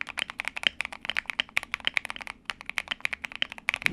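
Fast, continuous typing on an Akko Mod 007 V2, a 75% gasket-mounted mechanical keyboard, produces dense, crisp, close-up keystrokes in a rapid irregular rhythm with no talking.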